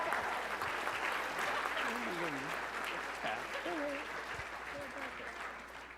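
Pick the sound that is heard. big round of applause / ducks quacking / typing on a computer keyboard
big round of applause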